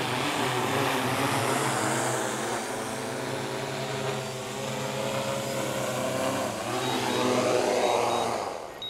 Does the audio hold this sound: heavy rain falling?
no